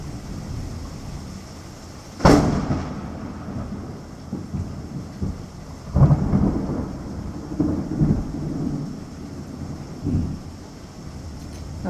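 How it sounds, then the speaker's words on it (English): An East Texas thunderstorm with steady rain and wind, punctuated by a sharp crack of thunder followed by several rolling rumbles that swell and fade. "Good old thunderstorm in East Texas."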